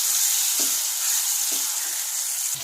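Tomatoes frying in oil in a pan for vangi bath, a steady close sizzle running throughout with a few soft low stirring thumps and no voices.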